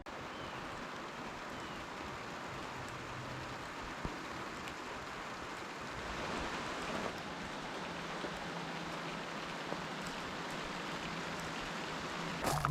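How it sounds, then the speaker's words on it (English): Steady rain pattering on a surface outdoors around a Pinto wagon with a swapped 2.3 Lima engine, a constant broadband hiss with a few brief drips standing out, no talk. "we got some rain"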